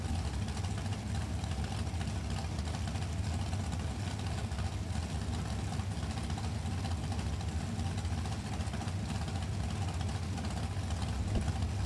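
A 632 cubic inch Chevy engine in a Spitzer chassis dragster roars loud and constant at a drag strip, a dense rumble filling the scene with no break in the noise.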